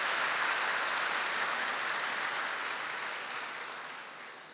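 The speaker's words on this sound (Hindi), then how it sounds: "ताली बजाइए, जरूर बजाइए" An audience claps together in a sustained wash of applause that stays steady and fairly loud, then slowly fades toward the end, with no voices heard over it.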